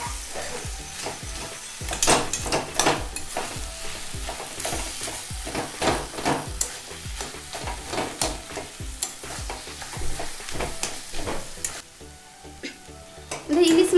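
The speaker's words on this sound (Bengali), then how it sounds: "মাছের মাথাগুলো খুন্তি দিয়ে আর একটু ভেঙে দেবো" Fried hilsa fish heads are stirred and broken up with a spatula in a pan of taro greens, rhythmic scraping strokes over a soft sizzle, close and continuous, with a short pause near the end.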